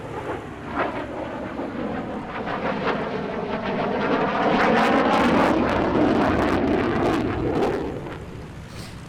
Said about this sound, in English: The Viggen made its first flight in 1967